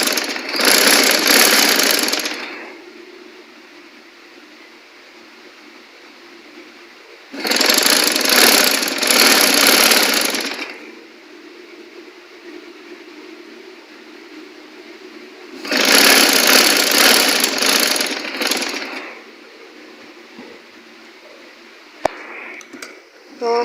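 Sewing machine stitches a prince cut long gown in three loud bursts of rapid whirring, each a few seconds long, separated by quieter pauses with a low background hum.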